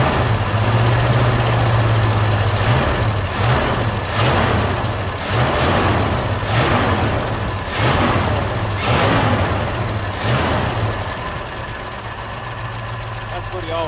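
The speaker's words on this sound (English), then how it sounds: "A little bit of lifter noise, but it ain't even smoking." A 1973 Ford Mustang left sitting in a cow field for 30 years idles with a steady low engine drone and a faint ticking of lifter noise, while people talk intermittently nearby.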